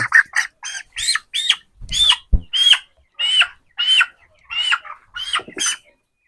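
A chicken squawks repeatedly while being picked up, loud close distressed calls in a rapid series with brief handling thumps between them.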